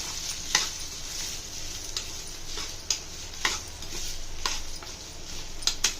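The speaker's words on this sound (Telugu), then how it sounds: "కాకరకాయలను యాడ్ చేసుకొని ఆయిల్లో బాగా మగ్గేలా కలుపుకోవాలి." Bitter gourd pieces stir-fry in hot oil, giving a steady sizzle with periodic clicks and scrapes as a utensil stirs them against the pan.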